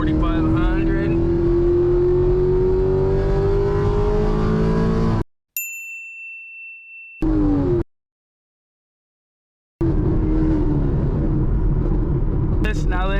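A Chevrolet Camaro ZL1 with a 10-speed transmission and eLSD swap revs hard in first gear, its engine note climbing steadily before cutting off, followed by a brief chime, quiet gaps, then renewed engine drone.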